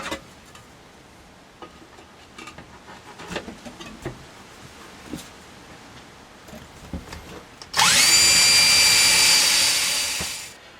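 A power drill runs steadily for about three seconds near the end, driving a self-tapping sheet metal screw into a metal floor plate during an Isuzu fuel pump replacement, after scattered light knocks and handling sounds.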